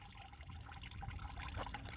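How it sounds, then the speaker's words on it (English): Fluid dripping steadily from an old, worn-out car under repair, a faint continuous trickle and patter heard alone with no talking. "That's still dripping."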